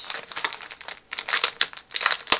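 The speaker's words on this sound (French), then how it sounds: "Désolée pour le bruit du papier." Close paper crinkling and rustling in several short bursts with a brief quiet gap in the middle.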